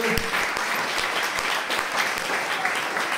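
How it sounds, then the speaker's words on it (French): A church congregation applauds during a retreat celebration, steady dense clapping with a few sharper individual claps standing out, fairly close and sustained, with faint voices mixed in. "Applaudissons-le."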